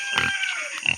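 A pig on a farm grunts and squeals in two short, close bursts, harsh and nasal, with a faint steady hiss behind.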